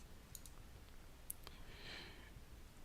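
A computer mouse clicks on a link in an online course page: a few faint, sharp clicks spaced apart over quiet room hiss.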